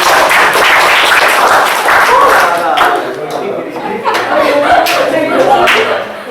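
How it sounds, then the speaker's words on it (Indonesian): Lively audience applause and clapping at a startup pitch session, loud and dense, with some chuckles and chatter mixed in. "Sip, tepuk tangan dong."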